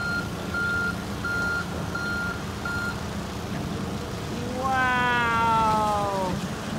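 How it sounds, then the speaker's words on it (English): A real excavator backing up at a construction site sounds its reversing alarm in several evenly spaced beeps, followed by a rising, wavering whine from the machine under a steady low engine rumble. "And an excavator. It's backing up."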